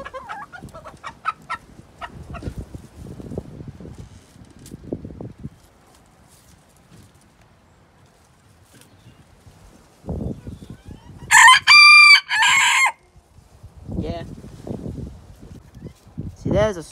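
Serama rooster, a tiny chicken breed, crows once loudly and clearly mid-clip, with softer clucking and bird calls around it and someone talking before and after.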